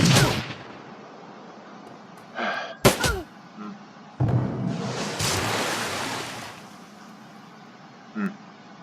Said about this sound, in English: it's time for a grenade, I would say